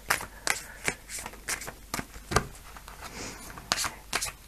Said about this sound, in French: Je vais prendre 5 cartes aussi.